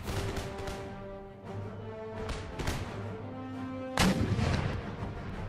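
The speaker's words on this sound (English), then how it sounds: "She canister shot the 15th regiment." Canister shot artillery volleys in the Empire Total War battle game, a rapid series of booming cannon blasts layered over a sustained musical backdrop, with a heavy burst near the end.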